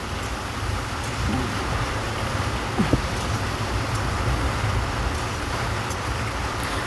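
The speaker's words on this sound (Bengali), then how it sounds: "আজকে আমার ভিডিওতে শুধু বৃষ্টির আওয়াজই পাবে কারণ সারাদিনই বৃষ্টি হচ্ছে" Steady rain hisses continuously in a village, a dense even wash of noise with faint scattered taps and no talking.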